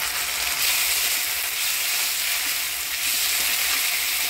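Ground spice paste of coriander, cumin, ginger and chili hitting a hot pan with potatoes, a loud, even, close sizzle that holds without break, with faint stirring under it.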